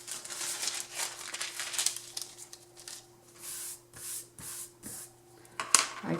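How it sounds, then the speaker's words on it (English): A sheet of paper is handled and laid down while setting up a drawing of circles and ellipses: soft crinkling, rubbing and sliding rustles in uneven bursts, close and fairly quiet, with no talking. "Now I put the last piece of paper."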